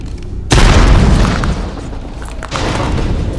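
A frag grenade goes off in a video game with a sudden loud boom that rolls into a long, heavy rumble and debris noise before a second burst.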